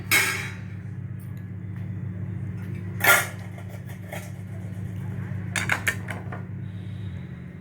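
Roasted sesame seeds are scraped from a hot pan onto a plate, giving a few sharp metallic clinks and scrapes of utensil on cookware, separated by quieter stretches over a steady low kitchen hum.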